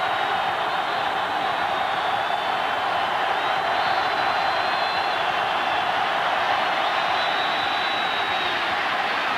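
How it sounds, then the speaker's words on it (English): A college football stadium crowd at Alabama versus Auburn roars as one steady, loud, dense wash of cheering, with faint whistle-like tones drifting over it and no break for the full stretch. "The students are up and roaring."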